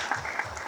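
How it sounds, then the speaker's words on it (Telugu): A brief burst of clapping from the Kannada media crowd at a film event, a quick even patter of many hands at fairly close range with no talk. "కన్నడ మీడియా అంతా ఒకసారి తెలుగు మీడియా కోసం క్లాప్స్ కొడుతుంది."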